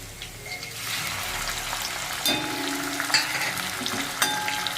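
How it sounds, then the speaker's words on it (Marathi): A chopped tomato drops into hot tempering for Maharashtrian dal varan, sizzling and frying up close as a spoon stirs with a few scraping clinks. "हे मी एक टमाटर चिरून घेतलेला आहे हे आपल्याला टाकून द्यायचं"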